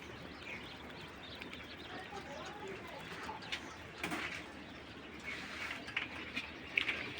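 King quail birds kept for sale call softly in the background, with faint coos and chirps over a low ambient hiss, rising slightly toward the end.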